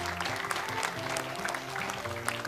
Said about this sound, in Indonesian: Boleh tepuk tangan untuk Syekh Jihad Al-Malik.